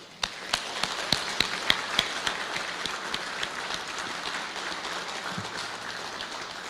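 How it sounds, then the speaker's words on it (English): Moderate, fairly quiet applause for the governor at a Florida ceremony honoring US&R Task Force 3, with distinct individual claps standing out in a steady rhythm over a softer wash of clapping. "I'd love to give the governor a round of applause and thanks."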